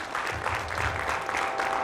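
An audience at a district candidates night applauds a candidate. Steady, dense clapping from a crowd fills the whole moment.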